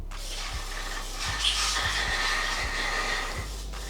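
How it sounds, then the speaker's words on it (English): Brake cleaner sprayed from an aerosol can into the holes of a BMW N54 engine block on a kitchen worktop gives a steady, fairly loud hiss that runs for the whole span, with faint low thumps underneath. "now we're going to spray brake clean to make all that crap come out."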